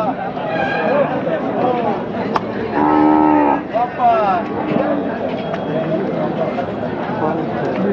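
Bulls at the Chakan bull market, with several loud nearby moos rising over a busy crowd of people talking and bargaining throughout.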